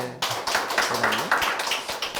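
A small group claps during a church family worship webinar lecture, a short burst of light, uneven claps with a brief voice at the start.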